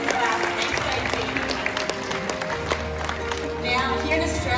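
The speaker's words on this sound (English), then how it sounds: "Let's give them a round of applause." Crowd applause rings out at a zoo show in the Crocoseum at Australia Zoo, a dense, continuous clatter of many hands with some cheering, mixed with busy outdoor background sound and a low hum toward the end.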